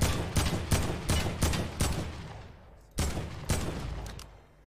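Rapid gunfire from the video game Fortnite, a string of sharp shots in quick succession that fade with echo, then a second short volley, fairly loud with no talk over it.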